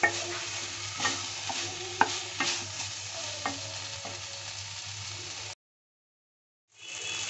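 Guar beans (cluster beans) being stir-fried in a pan give a soft, continuous sizzle with intermittent scraping stirs, then the sound cuts out for about a second before returning faintly.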